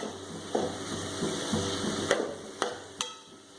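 Grated coconut is stirred into snake gourd kootu in a pan: soft scraping strokes with a few sharp clicks of the spoon against the pan, close and fairly quiet, with no talking.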